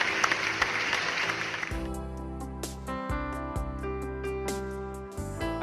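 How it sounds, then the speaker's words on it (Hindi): Church congregation applauding loudly to welcome a witness to the front, a dense wash of clapping for under two seconds that gives way to sustained organ or keyboard music. "हम जोरदार ताली बजा के स्वागत कर सकते हैं हमारे गवाह का"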